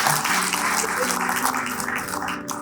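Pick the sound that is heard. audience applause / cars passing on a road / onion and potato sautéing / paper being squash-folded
audience applause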